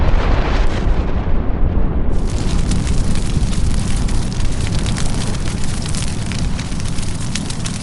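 Missile strikes hitting, heard as continuous loud rumbling blasts and roaring fire-like noise, with a sharp brighter burst partway through and sustained dense booming throughout.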